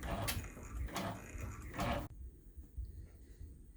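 An embroidery machine stitches an appliqué tack-down on an in-the-hoop zip bag, giving about two seconds of rapid, rhythmic mechanical chattering that stops abruptly and leaves a quiet low hum.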